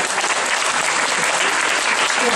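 Audience clapping steadily and densely for first-grade children after their school stage performance of the Odyssey, a full, continuous wash of applause with no pauses.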